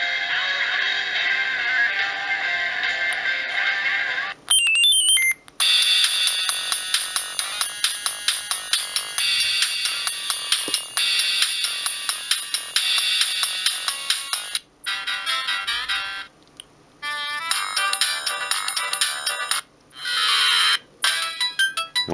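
A Siemens S65 mobile phone plays a polyphonic ringtone, a bright, bouncy electronic melody with a pulsing beat that runs steadily for over twenty seconds, loud and close, with a few brief breaks.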